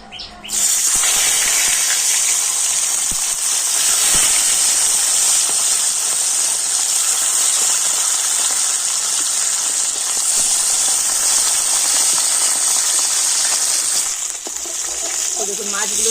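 Bata fish, salted and rubbed with turmeric, sizzling in hot oil in a wok, a loud continuous hiss that begins abruptly as the fish goes in and holds steady, close by, with no talk over it.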